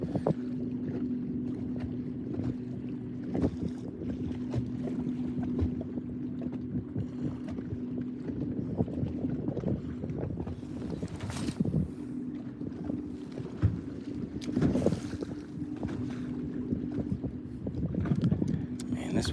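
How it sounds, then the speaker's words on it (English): Wind gusts over a bass fishing boat out on a lake, a continuous faint rush with low buffeting and the occasional knock of the boat, and voices talk intermittently underneath. "Man, this wind out here is kind of tricky."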